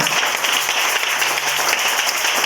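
Church congregation applauding together during a worship service, a dense steady wash of clapping that fills the whole stretch at an even level, with no talk over it.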